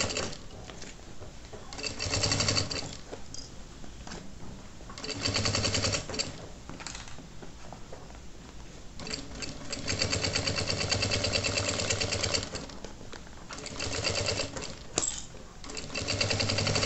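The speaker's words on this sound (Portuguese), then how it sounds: "Vai costurando com calma." Sewing machine stitching a child's backpack, close and moderately loud, running in uneven bursts of rapid whirring with brief slowdowns and handling noises between them.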